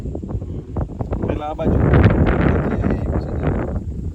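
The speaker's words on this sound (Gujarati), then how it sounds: "એટલો જોરદાર પવન હે" Strong gusty wind buffets the microphone before rain, rising and roaring under people talking.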